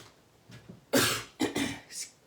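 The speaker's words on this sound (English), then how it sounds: "Clearing my throat." A person clears their throat a few times in short, raspy bursts, close and fairly loud, with faint sounds before.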